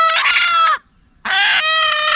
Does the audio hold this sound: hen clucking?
yes